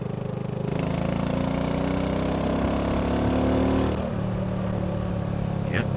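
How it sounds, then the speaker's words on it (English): A BSA Goldstar motorcycle engine runs steadily nearby with a loud, even drone that shifts in tone about two-thirds of the way through, with no voices over it. "well, that engine's got some torque"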